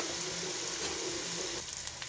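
Onions sizzle in hot oil with a steady crackling hiss, close up, with a faint stir near the end.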